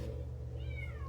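A house cat gives a single short meow, faint and brief over a steady low indoor hum.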